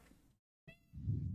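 A single short cat meow, faint and close, followed by a low rumbling noise, with no talking.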